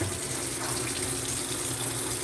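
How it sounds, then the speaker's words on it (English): Household fan being rinsed under a running tap, a steady, loud rush of water splashing over the parts with no pauses and no voices. "Do y'all wash y'all fans like this under the water?"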